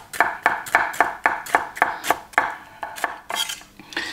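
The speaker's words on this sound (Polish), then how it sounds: "Paprykę pokroimy sobie taką drobniejszą kostkę trochę." A knife dicing bell pepper into small cubes on a cutting board, a steady series of about a dozen sharp chopping knocks at an even brisk rhythm, close and clear.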